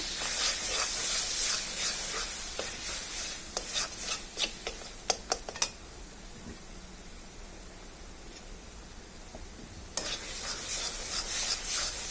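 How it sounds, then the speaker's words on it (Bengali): Taro greens, kochu shak, are stirred in a wok, giving scraping, rustling strokes with a few sharp clicks. The stirring quiets for a few seconds in the middle, then resumes, with no talking. "এখন ভালোভাবে আবার নেড়ে দিচ্ছি।"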